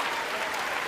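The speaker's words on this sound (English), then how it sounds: "That was a very aggressive clap." A brief, steady wash of applause fills the chamber during a State of the Union speech, with the clapping dense and continuous throughout.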